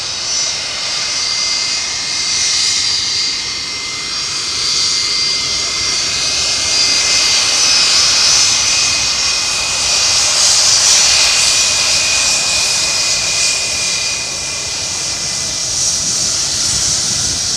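Steady, loud aircraft engine roar with a sustained whining tone, holding evenly throughout at close range, with no voices over it.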